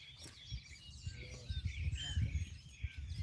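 Small birds chirp and tweet outdoors on a mountain in the morning, quick high scattered calls over a faint low background rumble, fairly quiet with no one talking.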